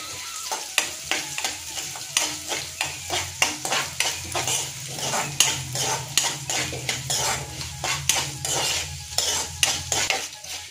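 Coriander, cumin and fenugreek seeds fry in oil with a steady sizzle. A spoon scrapes and stirs the pan in a regular rhythm of close metallic strokes, with no talk.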